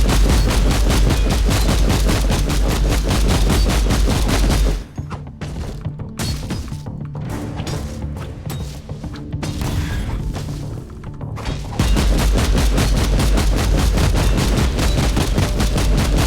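Stun grenades going off against a dreadnought in the video game Warhammer 40,000: Inquisitor Martyr. Loud bursts and blasts sound within dense, continuous combat noise, with a quieter, choppier stretch in the middle.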